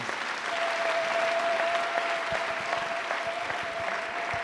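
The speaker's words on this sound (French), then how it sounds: "Applaudissons pour le Seigneur." A church congregation applauds for the Lord during a prayer service, steady collective clapping with a few sharper individual claps, plus a thin sustained tone in the background.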